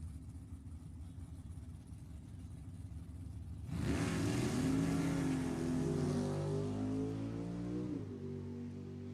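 Drag race cars at a raceway, a 1937 Chevy and a 1970 Camaro, heard as a low distant idle that swells into a loud, close engine roar as they launch and accelerate.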